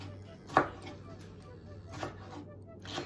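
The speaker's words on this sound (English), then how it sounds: "So just try to cut it as thinly as possible." A knife thinly slicing salad ingredients such as tomatoes on a cutting board, three separate sharp chops spaced about a second apart under a low background hum, with someone talking.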